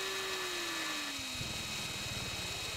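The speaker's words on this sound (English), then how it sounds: "And we got a Marine CH-46." A Marine CH-46 helicopter in a flight video game drones steadily, a falling engine whine joined by a rapid rotor chop that grows in partway through.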